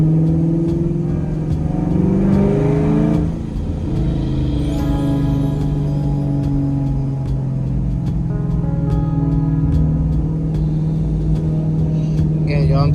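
Chevrolet Camaro SS V8 engine rumbling and revving while driving in snow, a loud steady drone with pitch rising and falling as it accelerates, heard from inside the car.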